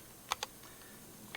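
A few soft keystrokes on an aluminum NK87 keyboard with Kono Sunset switches and POM jelly keycaps, two quick taps close together and a third after a pause, quiet and close.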